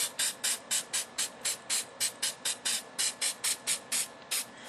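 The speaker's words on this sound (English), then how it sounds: "we're just going to spray it on, just like so." Spray paint hisses onto a painting in quick, regular bursts, about seventeen short sprays in steady rhythm with brief pauses between, close and with no talking.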